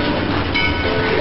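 A runaway train rolling past in an old film, a loud steady rumble with rattling wagons and a brief whistle-like tone, filling a short moment with no speech.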